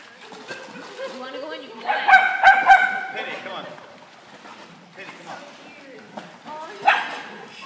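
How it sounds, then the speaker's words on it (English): A dog barks and yips in a few close, sharp bursts, with whimpering sounds between them, while people talk over it in a home setting. "No barking."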